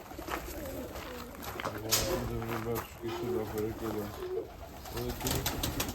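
Young pigeons coo in a racing-pigeon loft, repeated low throaty coos in close rhythmic bursts while someone speaks nearby.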